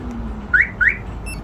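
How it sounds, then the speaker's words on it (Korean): Two short rising electronic chirps from a smartphone-linked alarm system fitted to a Hyundai Xcient dump truck, evenly spaced and fairly loud over a low idling hum, with no talking. "액시언트 덤프 차량에 사용거리 무제한 스마트폰 경보기 매직카 모바일과 양방향 제품인 다이아몬드 스포츠 장착입니다"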